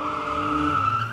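A car at a street race skids with a sustained, high tire squeal over a loud engine drone, one continuous slide close by.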